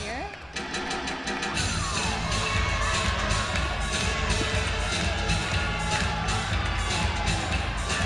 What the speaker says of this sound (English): Minnesota crowd cheering her on as she gets ready to